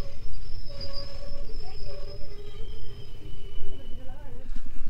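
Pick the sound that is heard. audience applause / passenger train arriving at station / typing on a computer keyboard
passenger train arriving at station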